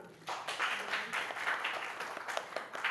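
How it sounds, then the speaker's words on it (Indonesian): Classroom applause from a group of students, a dense burst of many hands clapping together that carries on steadily and fairly close for a few seconds, with no voices rising above it. "Tepuk tangan."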